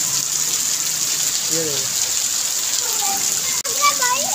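Heavy monsoon rain pours down and floods water through half a house, making a constant loud hiss and gush while people talk excitedly over it.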